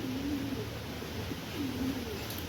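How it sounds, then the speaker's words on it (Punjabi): Two soft, low pigeon coos, one early and one later, against a steady background hum. "ਆ ਵੀ ਕਬੂਤਰ ਨੇ ਬਈ ਦੋਵੇਂ"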